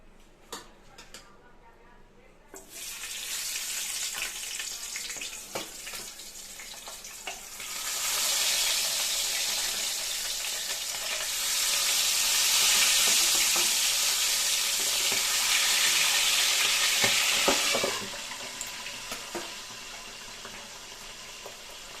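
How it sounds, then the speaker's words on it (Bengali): Tangra fish frying in hot oil in a frying pan, starting quiet, then a loud broad sizzle that swells twice and eases off, with occasional clatters of a utensil. "তেল গরম হয়ে গেছে, আস্তে আস্তে মাছগুলো আমি ছেড়ে দেবো।"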